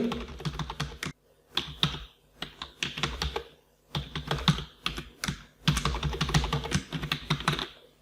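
Login details being typed on a computer keyboard: bursts of close, crisp keystrokes in quick uneven runs, separated by short pauses, with no talking.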